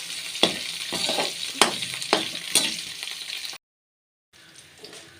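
Pappadam thoran fries in a pan and is stirred with repeated sharp scraping strokes over a crackling sizzle, close and moderately loud; it breaks off abruptly into silence for a moment before a quieter sizzle resumes, with no talking.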